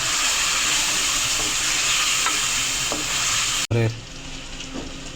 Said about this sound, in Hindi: टमाटर के साथ इसकी करेंगे 2 से 3 मिनट भुनाई